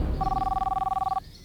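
A telephone ringing with a single warbling electronic trill lasting about a second, close and clear, ending abruptly.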